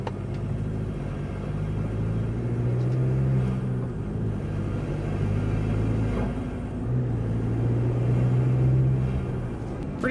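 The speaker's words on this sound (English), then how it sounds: "You don't hear the whooshing, sucking noise that you're getting at partial throttle." Interior drone of a tuned Duramax diesel Chevrolet Colorado ZR2 with an AFE intake at light throttle, a steady low rumble with soft turbo whooshing and intake sucking rising and easing in gentle swells.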